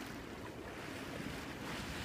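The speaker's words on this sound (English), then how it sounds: "We have a fairly good wind. It's a tailwind." Wind blowing on a sailboat under mainsail with a tailwind, shortly after leaving Nice on the Riviera, heard as a steady, faint rushing mixed with the wash of waves, with no voices.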